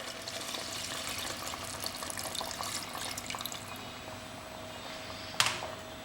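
Water pours steadily into a pot of mutton curry with a gentle splashing flow, ending with a sharp clink of metal.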